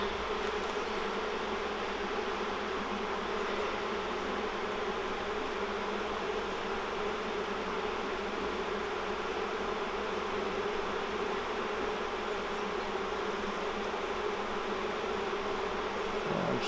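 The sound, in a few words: bees buzzing around hive frames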